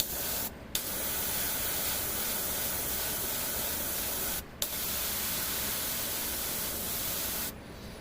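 An airbrush sprays paint on a tabletop miniature figure, its airy hiss loud, steady and close, cut by two brief pauses and stopping near the end.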